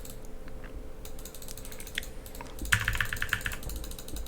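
Rapid clicking and clacking of keys on a small mechanical keyboard during a League of Legends match, close and crisp, with a louder burst of hammered keystrokes near the end.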